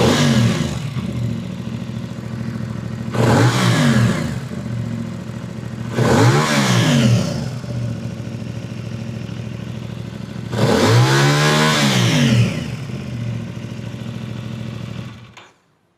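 A stock-exhaust CFMOTO 450CL-C motorcycle idles in neutral and is revved in three bursts, each rising and falling over a second or two, the last one longest, before the engine cuts off at the end.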